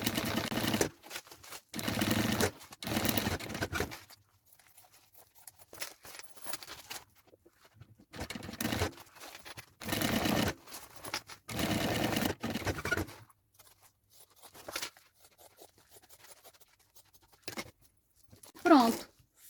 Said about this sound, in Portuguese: A gente vai costurar aqui as laterais, pregando isso.